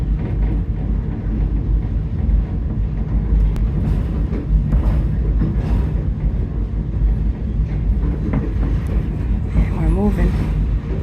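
Heritage passenger train on the Colebrookdale Railroad between Pottstown and Boyertown, the locomotive pushing the coaches from behind: a steady low rumble and rolling rattle fill the car, with people talking over the noise.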